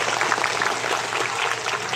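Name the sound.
audience applause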